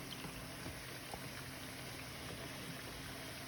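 Fry bread dough frying in hot oil, a steady crackling sizzle with dense bubbling that runs unbroken and close throughout.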